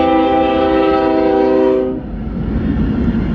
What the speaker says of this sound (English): There's something so fascinating about a train, huh, Joe?